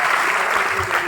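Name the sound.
audience applause for Neeraj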